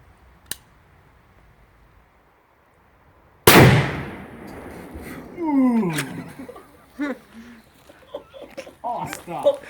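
A Barrett M99 sniper rifle fires a single loud, sharp shot after a quiet lead-in, followed by a ringing decay, then people laugh and talk.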